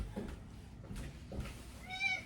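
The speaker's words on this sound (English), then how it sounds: "I got a cat that's going to sit there and rub against our stand" A large house cat beside a stand lets out a faint, brief meow near the end of a short stretch of quiet, low background noise, without clear talk.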